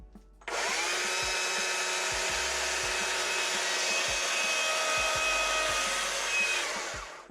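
A chainsaw cuts into wood, hollowing out material from a carved sunflower petal, with a loud, steady high-revving roar holding for about seven seconds before cutting off, and dull low knocks underneath.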